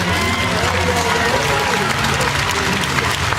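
Crowd at the 2018 Manchester Grand Prix applauding the medalists, loud, dense clapping that stays steady for the whole stretch.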